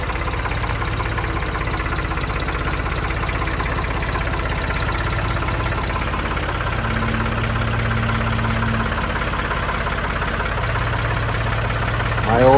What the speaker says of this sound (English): I'm gonna push the fence posts into the tractor bucket because they're tall.